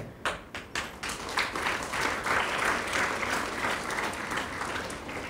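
Applause from the audience at a World Humanitarian Day celebration, opening with a few separate sharp claps and then swelling into sustained clapping that carries on steadily to the end.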